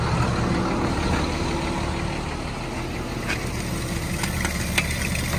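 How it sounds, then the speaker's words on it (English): A farm tractor engine runs steadily at idle to power the hydraulics and rollers of a sewage sludge spreader, a constant close rumble with faint clicks and no talking. "Have to keep the engine running to work the hydraulics, to work the rollers when we're doing it"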